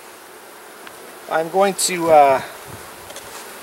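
Honey bees buzzing close around a four-frame nuc box set beside a hive, a loud wavering drone rising in short bursts while someone speaks briefly over it.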